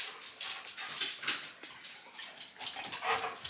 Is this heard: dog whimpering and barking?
yes